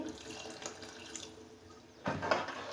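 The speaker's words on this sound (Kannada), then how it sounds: "ಸ್ವಲ್ಪ ನೀರು ಹಾಕ್ತೀನಿ ನಾನು, ಗಟ್ಟಿ ಇದೆ ಜಾಸ್ತಿ" Water runs into a pot of thick Kannada-style curry, a steady splashing pour that surges louder near the end, with no talk over it.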